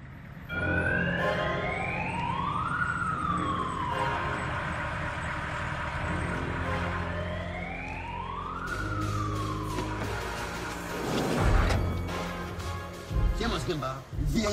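A police car siren wails in rising and falling sweeps, loud and fairly near, over a background of street noise, with thumps and movement toward the end.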